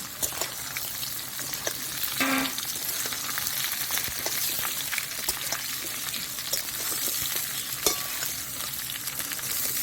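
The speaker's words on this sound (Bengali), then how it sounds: "এবারে আমগুলো দিয়ে দিচ্ছি" Mango pieces for a sweet-sour mango pickle, cooked with black and white cumin in a pan, sizzle steadily while being stirred, with a brief louder clatter near the start and no voices.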